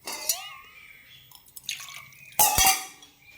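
Water trickles and splashes into rice flour adai batter in a kitchen bowl, with brief sloshing and a clink of a vessel, close and fairly quiet.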